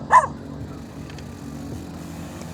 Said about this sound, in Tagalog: At tinatahulan na ako ng aso dito.